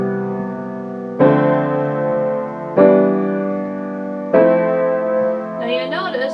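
Piano plays the chords of a piece, stepping up one note at a time. Three evenly spaced sustained chords ring and decay, with a quick higher flourish at the end.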